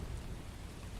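Steady rain in the video game The First Descendant, a dense, even hiss of falling water with a low rumble underneath, continuous and fairly loud with no voices.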